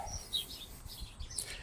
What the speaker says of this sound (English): big old clutch of birds over there